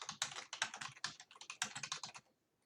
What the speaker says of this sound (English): And I would just start typing.